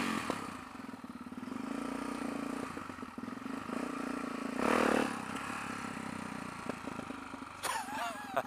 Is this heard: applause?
no